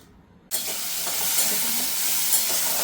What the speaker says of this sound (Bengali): তেল আমার গরম হয়ে গেছে, এবার আমি ফোড়নের জন্য এখানে দিয়ে দিলাম সব কুচানো জিনিসগুলো